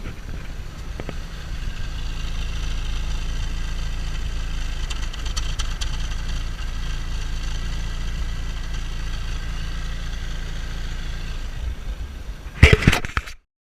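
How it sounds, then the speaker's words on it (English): A Mercedes-Benz C-Class W203 engine idles roughly with a steady low rumble and slight unevenness, struggling to keep running, followed near the end by a brief clatter of handling noises. "You can definitely hear the engine a bit struggling to keep running."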